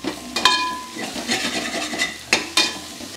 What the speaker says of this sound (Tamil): நடுவில் முட்டையை சேர்த்துட்டு நல்லா இந்த மாதிரி கிளறி விட்டுணும், அடி பிடிக்காமல்